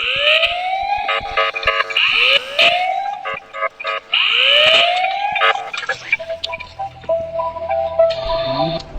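An alarm siren in the video game Ice Scream 4 wails in repeated rising electronic sweeps with ticking beeps between them, loud and steady, before giving way to other game sounds.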